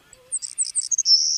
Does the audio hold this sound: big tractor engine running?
no